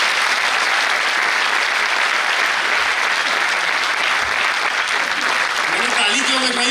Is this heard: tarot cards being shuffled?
no